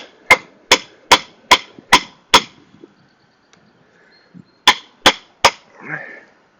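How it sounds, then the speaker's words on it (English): A hammer strikes a filler 4x4 wooden post being driven tight into a notch for a deck foundation, a quick series of seven sharp close blows, a pause, then three more hits. "I'm going to have to hammer this in"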